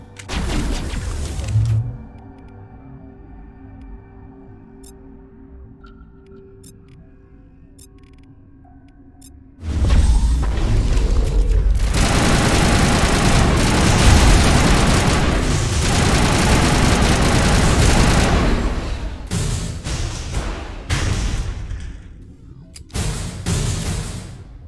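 Mass Effect firefight against Geth on Noveria, with a quiet stretch of electronic tones giving way to a loud, dense barrage of gunfire and booming blasts that continues for many seconds before breaking into scattered shots.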